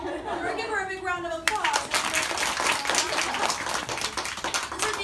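A classroom audience breaks into sustained applause, dense and fairly loud clapping for several seconds, with a voice speaking just before and murmured chatter underneath.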